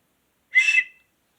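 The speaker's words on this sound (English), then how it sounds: "Survival whistle." A survival whistle from a SHTF emergency bag gives a single short, shrill blast lasting under half a second, close and loud against silence.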